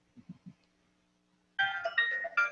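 A cell phone rings with a bright, tinkling melodic tune reminiscent of an ice cream truck jingle, loud and close, starting abruptly after a few soft low thumps and near silence, with no talking over it.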